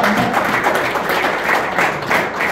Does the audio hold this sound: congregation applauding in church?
yes